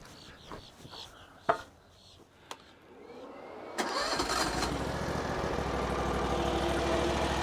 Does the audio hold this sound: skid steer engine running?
yes